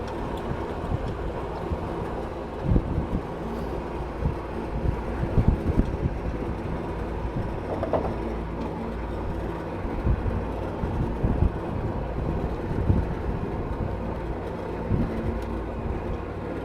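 A motor boat on Lake Windermere running in reverse, a steady low engine rumble with wind buffeting the microphone, continuous and close.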